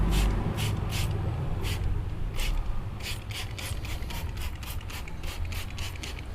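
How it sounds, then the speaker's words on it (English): Gyeon iron wheel cleaner is sprayed onto a car wheel in a series of short, sharp hissing bursts, some single and some in quick runs, heard close against a low background rumble. "Let's spray some of the Gyeon onto the Mirch side and see if we get an iron reaction again."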